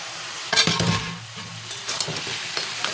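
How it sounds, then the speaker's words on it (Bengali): Fish heads dropped into cabbage cooking in a pan, a clatter of stirring and scraping over a soft continuous sizzle, with light clinks of utensil on metal. "এবার দেবো মাছের মাথাগুলো"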